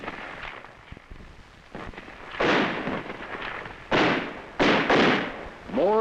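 Small arms and mortar fire in a 1963 combat ambush in Vietnam: loud, sharp blasts and bursts of gunfire echo at irregular intervals over a rough, noisy background, with no talk.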